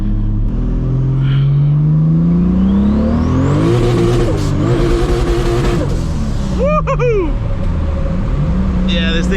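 A 1000HP MKIV Supra accelerates hard, its engine climbing and revving loudly and close, with tire noise and a brief squeal as it struggles for traction; a voice talks over the roaring engine.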